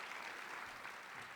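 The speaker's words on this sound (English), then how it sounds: "please, a huge round of applause for this event." Crowd at a city council candidate forum breaks into applause, a continuous even patter of many hands, moderately distant and fairly quiet, with no voices over it.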